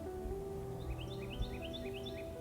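Birds in a field give a quick run of faint, high chirps repeated in a steady series over a low background hum.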